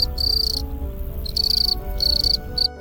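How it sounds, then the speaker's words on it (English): Crickets chirp at dusk in steady, rhythmic bursts, loud and close, with short pauses between each pulsing trill over a low ambient rumble. "crickets began to chirp at dusk, their rhythmic chirping marking the transition to nightfall"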